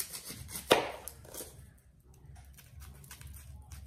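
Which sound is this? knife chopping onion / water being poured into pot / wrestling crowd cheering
knife chopping onion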